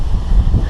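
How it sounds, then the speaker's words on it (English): Strong wind buffets an outdoor microphone on a blustery day under dark clouds, a brief, loud, low rumbling gust with no talk. "It's quite windy here today."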